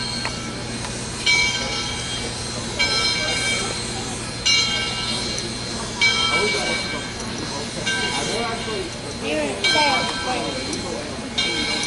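A 1904 steam locomotive chuffs in slow, regular bursts of hissing exhaust over a constant low mechanical rumble, with voices murmuring in the background.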